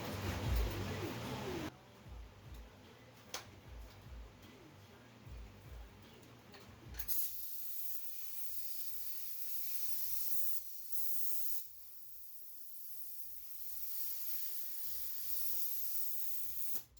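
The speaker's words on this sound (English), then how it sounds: "I'm a little worried about spray painting these ones that have already had spray paint on them" A paint spray gun hisses in long continuous bursts during a cheap at-home car paint job, steady loud spray broken by short pauses and a few clicks.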